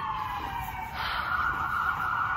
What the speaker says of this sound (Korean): 저놈의 사이렌 소리.